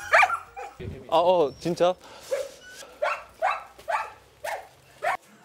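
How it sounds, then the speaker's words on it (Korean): Water dog puppies about two weeks old bark and yip in quick, close bursts, some whimpery, while someone speaks over them in Portugal. "워터독 강아지들, 새끼들 있습니다, 새끼들"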